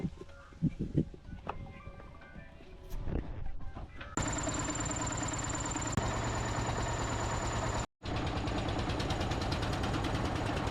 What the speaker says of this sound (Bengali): আমরা এখন একটা নৌকা রিজার্ভ করেছি এই নৌকা নিয়ে এখন খোশবাগে যাব